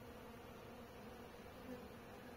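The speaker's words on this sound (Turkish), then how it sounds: "Bak, eşek arısı geldi." A hornet buzzes faintly and steadily near a beehive, a low insect drone holding throughout the quiet clip.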